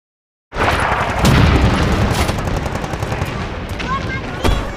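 Explosions in a World War II front-line battle scene from a war film: loud bursts of gunfire and booming blasts erupt together, rapid cracks over a heavy rumbling roar, with a few sharp crashes and whines.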